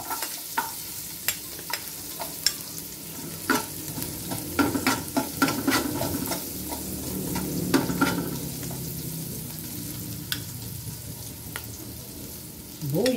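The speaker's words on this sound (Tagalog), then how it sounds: "gigisahin na po natin itong ating bawang, sibuyas at luya" Garlic, onion and ginger sautéing in a pan after dried fish was cooked, crackling and sizzling steadily while a utensil stirs and scrapes with repeated sharp clicks, close up.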